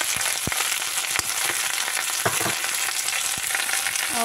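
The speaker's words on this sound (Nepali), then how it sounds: "अब राम्रोसँग चलाऊँ।" Potato curry with salt and store-bought masala sizzles steadily in a frying pan, with occasional sharp clinks and scrapes as it is stirred close by; no one speaks.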